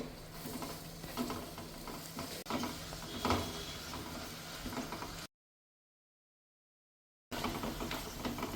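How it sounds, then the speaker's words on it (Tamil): Papadam frying in hot oil while a gravy is cooked, a steady crackling sizzle with stirring scrapes, broken by a short silent gap before the sizzle returns. "பப்படம் நல்லா வறுத்தாச்சு"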